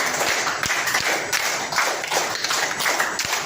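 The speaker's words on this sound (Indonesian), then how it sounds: "Oke, tepuk tangan dulu kita semuanya." A group of students clap their hands together in a classroom, a dense, steady patter of claps with a few sharper accented beats, fairly loud and close throughout.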